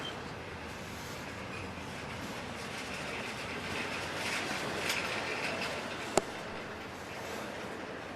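CSX freight train cars, including shipping containers, roll past steadily as the train slows, a continuous rumble and rail noise with one sharp clank near the end.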